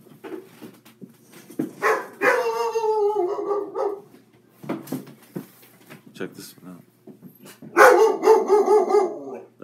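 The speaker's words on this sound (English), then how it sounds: "That's my scary dog." A dog gives two short runs of whining, yipping barks, close and fairly loud, with a person talking quietly before, between and during them.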